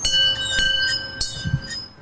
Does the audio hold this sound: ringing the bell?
yes